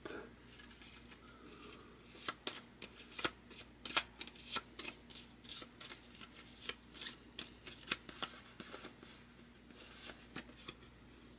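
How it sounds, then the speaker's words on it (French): Playing cards from the Empires in America board game being shuffled and drawn from a discard pile, a run of crisp, close riffling snaps and soft card slides in irregular bursts, with no talk. "la capacité de Lévy qui permet de tirer au hasard une carte de la discarte"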